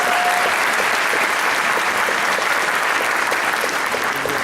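A round of applause from an audience celebrating an honoree named Angie; thick, even clapping from many hands fills the whole stretch without pause.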